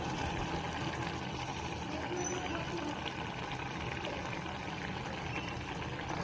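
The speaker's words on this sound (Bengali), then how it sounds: "দেখো এবার আমি এই তেঁতুলগুলো পানিটা দেবো।" Tamarind water pours into a pot of fish simmering on the stove, a steady liquid splash and trickle running continuously over the bubbling of the cooking.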